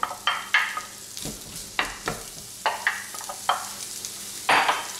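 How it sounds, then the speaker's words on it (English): Onions are added to a hot pan and fry with a low sizzle, broken by repeated sharp stirring and scraping clatters at irregular intervals. "Right, getting hot now, so I'm going to add the onions in."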